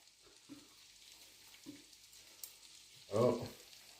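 Potatoes, onions and sausage frying in a pan for pyttipanna, a faint steady sizzle broken by a few soft stirring scrapes and a louder clatter near the end.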